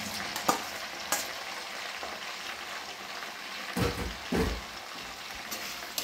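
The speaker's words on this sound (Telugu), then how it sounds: "ఇవి 300 గ్రాముల వంకాయ ముక్కలు." Eggplant pieces, about 300 grams, sizzle and fry steadily in a hot pan, a continuous crackling hiss with a few louder pops and stirring scrapes, close and alone without talk.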